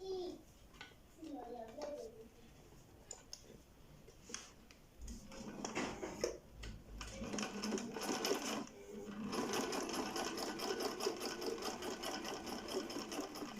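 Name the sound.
Husqvarna Viking 3020 sewing machine sewing folded fabric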